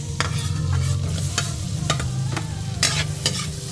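Onion sizzles in butter in a pan with a loud, continuous frying hiss, broken by several sharp clicks and scrapes of stirring, close and without talk.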